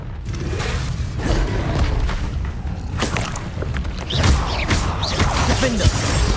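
A Confringo spell explosion in the Hogwarts Legacy video game bursts amid continuous combat noise, with thuds, whooshes and magical effects layered loudly over several seconds.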